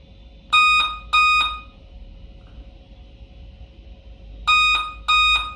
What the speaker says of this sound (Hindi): इसमें बीप साउंड आ रहा है, टू बीप आ रही है डेल की।